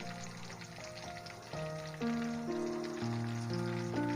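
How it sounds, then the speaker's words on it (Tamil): Quail pieces fry in hot oil with a quiet, steady sizzle, while tonal music plays over it throughout. "இதை நம்ம பொரிச்சு எடுத்துடலாம்"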